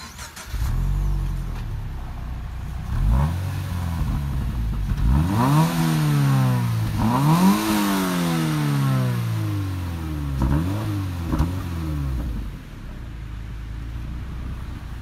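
A 2018 Subaru BRZ tS starts up and revs hard several times, its engine note rising and falling in sweeping climbs before settling to a steady idle, loud and close with no talking.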